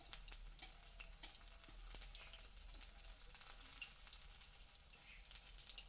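Drumstick flower fritters fry in hot oil with a steady, close, bright sizzle and crackle that runs throughout, with no voices.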